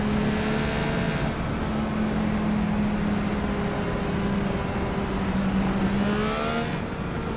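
Chevy-powered Indycar IR18 engine in iRacing at Watkins Glen, a steady loud droning whine holding nearly constant pitch with slight rises and dips, continuous throughout with no talk.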